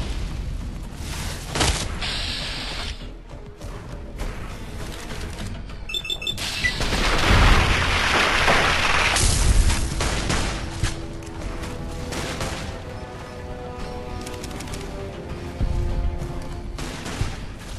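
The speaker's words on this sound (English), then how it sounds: "What are they shooting at?" Scattered gunshots and booming explosions come from a firefight in the video game Fallout New Vegas, an irregular mix of sharp cracks and heavier blasts of varying loudness over a busy background.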